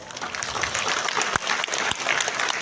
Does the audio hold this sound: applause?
yes